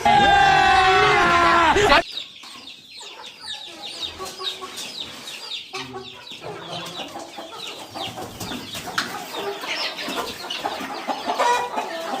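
A rooster at a rural Sankranti gathering lets out a loud, close squawking burst, then clucks and scattered fowl calls follow amid background voices and general outdoor bustle.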